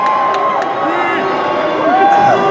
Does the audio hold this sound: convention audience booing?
yes